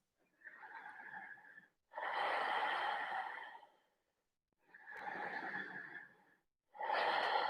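Slow, deep breaths during a relaxing stretching exercise, four long airy inhales and exhales of about one to one and a half seconds each, separated by brief pauses, close and clear with no talking.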